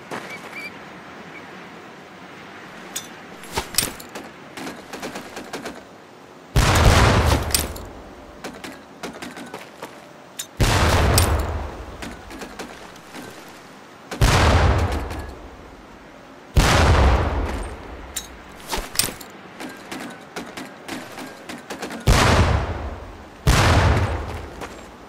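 Training grenades explode one after another in Medal of Honor Pacific Assault boot camp, roughly eight loud, booming blasts spaced a few seconds apart, each fading quickly over a quiet background.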